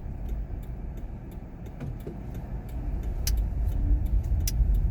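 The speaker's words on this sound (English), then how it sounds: "Driving in Florida." Car driving along a Florida road just after leaving a gas station, a steady low road and engine rumble inside the cabin with faint small clicks and rattles, growing slightly louder toward the end.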